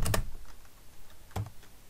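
A few quick taps on a computer keyboard, two keystrokes at the start and two more near the end, faint and close, with quiet room noise between.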